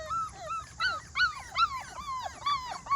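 Several five-week-old puppies whimper and yip in high, rising cries, overlapping in quick bursts, fairly close and fairly loud.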